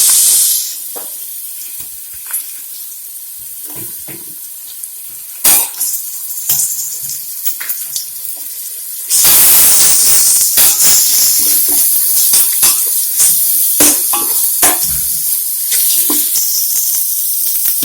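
Ginger garlic paste fries with onions in a pan for Muslim-style chicken biryani. Quiet clinks and stirring come first, then a loud, hissing sizzle suddenly takes over and keeps going close up, with scraping and stirring noises on top.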